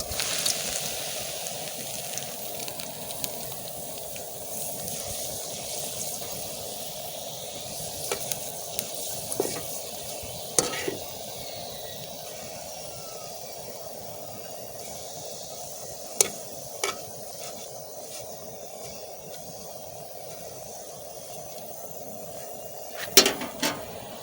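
Curry leaves sizzling in hot oil for village-style banana flower pakoda, a steady crackling fry with a few sharper pops and spits scattered through, close by with no talking.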